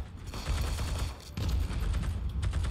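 An M2 heavy machine gun firing in a World War II-era shooter, Germany versus USA match: sustained, rapid automatic bursts, loud and close, with a short break midway before the fire resumes.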